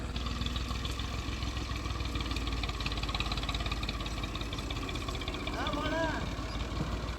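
A tractor engine chugs steadily while ploughing a small farm field for wheat sowing, giving a constant mid-pitched throbbing drone with a low rumble that holds at an even level throughout.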